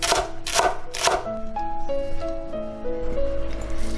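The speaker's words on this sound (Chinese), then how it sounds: "再来把芹菜切碎" Celery cut with a knife on a board: three sharp chops, then lighter, faster cutting under a steady musical background, with no voices.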